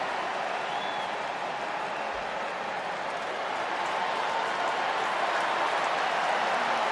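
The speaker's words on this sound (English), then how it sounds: "Listen to this noise. Once the fans realise who is about to come on." Football stadium crowd at Manchester City versus AC Milan, a dense, steady roar of applause and cheering that swells slightly as it goes on, loud and continuous throughout with no distinct voices.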